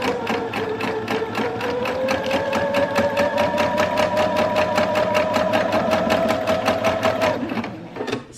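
A sewing machine runs steadily with a rapid, even mechanical chatter of stitching, close and loud, then winds down and stops near the end.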